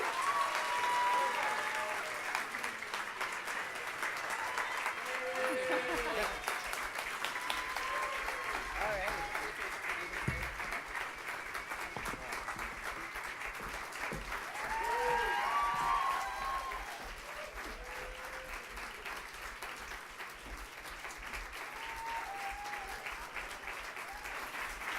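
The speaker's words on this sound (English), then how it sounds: "applaud these amazing women for all of their contributions" Sustained audience applause for women honored at an awards event, steady clapping that lasts the full stretch, with scattered cheers and whoops rising over it and a voice heard briefly underneath.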